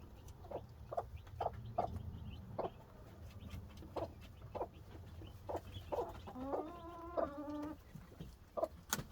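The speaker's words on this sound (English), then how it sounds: "That's what the broody hens, that's the sound they make." A broody hen clucks in short, repeated low bursts with steady spacing, then lets out a brief rising squawk, close by against a quiet farmyard background.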